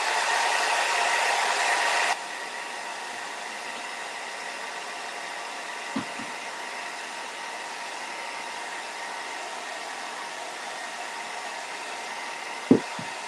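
A hair dryer blows steadily on wet paint on a patriotic butterfly door hanger. Its close, loud whoosh runs about two seconds and then cuts off, leaving faint room hiss broken by a couple of small knocks.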